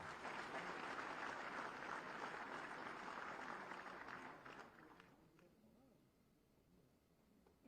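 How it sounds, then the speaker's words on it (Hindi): At a Uttar Pradesh police ceremony, an audience applauds in a dense, steady wash of clapping that fades away after about five seconds, leaving quiet room tone. "आप सबकी जोरदार तालियों के साथ"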